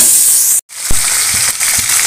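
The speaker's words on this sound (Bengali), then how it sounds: "চিকেনটাকে ভালো করে ভেজে নেব" Chicken seasoned with salt, turmeric and chili powder fries in hot oil, a loud, close, steady sizzling hiss that cuts out briefly, then resumes with a few soft knocks.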